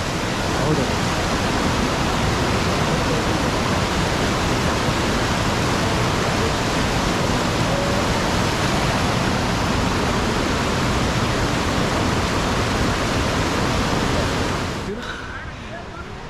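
Monsoon streams rush across the trail on the Netravathi trek in Chikmagalur, a loud, continuous broadband roar of flowing water close by, steady throughout before easing slightly at the very end.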